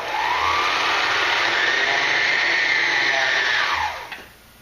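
Sewing machine winding thread onto a bobbin at high speed, a smooth steady whirring hum that rises slightly in pitch, then winds down and stops near the end; close and alone, with no talking.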